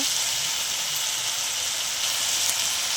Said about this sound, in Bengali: আমরা আদা রসুন পেঁয়াজ টমেটো সব দিয়ে দিলাম, একটু কষিয়ে নেব